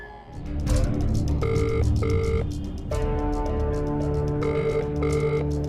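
A telephone rings in repeated electronic bursts, fairly loud and close, over a busy background hum with no talking.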